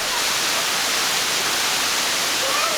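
A waterfall near large sinkholes roars as a loud, steady broadband rush of falling water, constant and close, with no other sounds.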